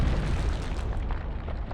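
Loud explosion in Medal of Honor: Underground, set off to seal a catacomb entrance: a heavy, sustained rumbling blast with deep low-end boom, close and dominant throughout, no voices.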